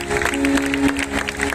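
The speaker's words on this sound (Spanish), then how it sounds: "Dale fuerte el aplauso" Congregation applause during a church service in the Dominican Republic, a crowd clapping loudly and irregularly while a sustained tone and murmuring voices sound beneath it.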